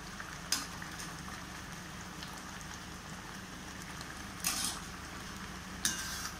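Sweet semolina appam batter cooks in a pan with ghee, giving a soft, steady crackling sizzle up close, broken by three brief sharper spatters or utensil clicks.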